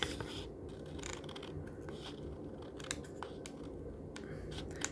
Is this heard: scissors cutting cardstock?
yes